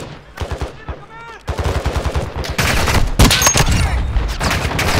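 Rapid automatic gunfire in a DMZ online shooter game, loud, close bursts that grow denser and more continuous, mixed with other game sounds and a voice.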